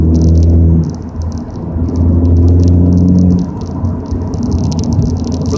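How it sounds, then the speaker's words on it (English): A Ford Focus ST cruising at 50 mph in fifth gear at 2200 RPM with a little throttle gives off a deep, steady exhaust rumble, loud and close, with light rattles and faint chirping above it. "50 mile an hour, 2200 RPMs, fifth gear, a little bit of gas, it gives it a nice rumble"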